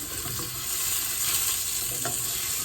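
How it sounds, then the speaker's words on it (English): Thick chicken breast sears in a hot pan, a steady broadband sizzle and crackle running continuously at close range, with a faint utensil clink near the end and no talking. "Because it's so thick, I want to sear this side, so I'm going to turn it on the side for a second."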